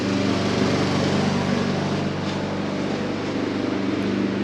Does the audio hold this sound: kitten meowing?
no